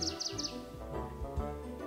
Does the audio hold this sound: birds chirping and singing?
yes